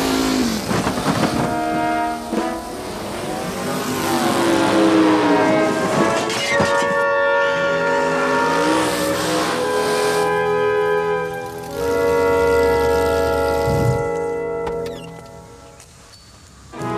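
Cars drive through a parking garage, with loud engine revs and whining, rising and falling pitches that fill most of the stretch before easing off near the end, with no talk.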